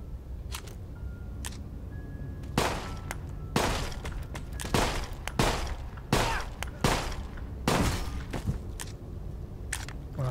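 Video game gunfire: sharp gunshots crack out one after another at irregular intervals, loud and close, over a low background rumble with no talking.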